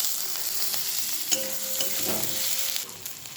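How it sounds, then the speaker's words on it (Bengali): Ground spices (turmeric, chili, cumin and coriander powder with Kashmiri chili and green chilies) sizzle steadily in a pan after a splash of water, with close stirring scrapes over the constant frying hiss. "এবারে সামান্য একটু জল দিয়ে মশলাটা ভালো করে কষিয়ে নেব"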